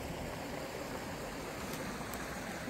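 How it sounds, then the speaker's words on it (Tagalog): Rushing water of a backyard creek swollen after a day of rain beside rainforest, a steady broadband wash running unbroken and fairly close, with no voices. "ang ragasa ng tubig"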